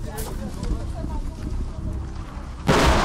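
A nearby explosion in the Karabakh war zone erupts as a sudden, loud, broad blast near the end, following a stretch of rumbling background noise and a voice talking.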